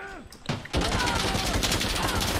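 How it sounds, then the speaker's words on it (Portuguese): Dense rapid gunfire in the game Insurgency: Sandstorm erupts after a brief quieter moment and continues loudly, a continuous barrage of shots from a battle. "Tiroteio é foda, né?"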